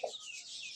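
A chicken gives a brief, soft cluck while being herded in a village, a single faint call that fades quickly.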